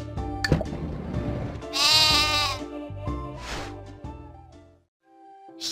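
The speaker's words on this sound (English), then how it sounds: "Sheep." A sheep bleats once in a children's animal-learning video game, a loud wavering baa rising over light background game music and fading out near the end.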